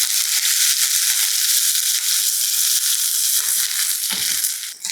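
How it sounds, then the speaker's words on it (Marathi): Cumin, asafoetida and a crushed garlic-green chili thecha fry in hot oil in a pan, giving a loud, continuous close-up sizzle with scattered crackles and pops and no talking. "आता जिरं हिंग आणि ठेचा घालून मिसळून घ्यायचं"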